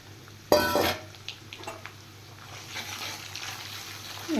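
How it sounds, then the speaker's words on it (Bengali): Rohu fish roe drops into lightly fried onions in a pan, with a sudden burst of sizzle and a clatter, then quieter frying with stirring scrapes. "এইবার আমি দিয়ে দেব মাছের ডিমগুলো"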